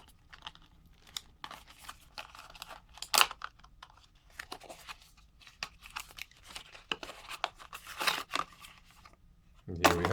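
Intermittent crinkly tearing and slicing as an Amazon package is cut open, quiet close bursts of plastic and cardboard scraping spread over several seconds, with a louder rip near the end.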